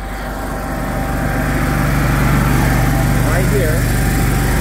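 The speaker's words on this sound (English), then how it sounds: "That will start your air compressor." An air compressor on a 2012 Chevrolet Silverado K3500 HD utility service truck runs with a loud, steady low engine-like drone and vibration, while someone talks over it.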